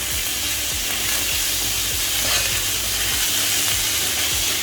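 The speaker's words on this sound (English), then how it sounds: "quickly add in the onions. Oh my god, it's splattered." Onions added to hot oil for a mirgal fish curry with uri, loud continuous sizzling hiss with crackling spatters, close and steady throughout, no talking.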